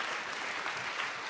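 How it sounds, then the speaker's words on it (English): Audience applause at a UN youth summit, a steady wash of many hands clapping at moderate volume for the full length, with no talk over it. "So a round of applause for Edgar."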